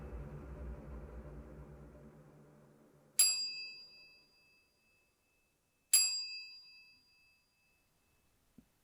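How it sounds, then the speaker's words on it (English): A bell in an old, reportedly haunted hospital is struck twice a few seconds apart, each strike ringing out clearly and fading slowly into silence after a low rumble dies away. "You like the sound of that bell?"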